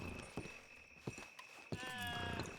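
Hooves of horses in Red Dead Redemption 2 clip-clop in a few spaced steps, with a short chime-like game tone and a steady high whine in the background.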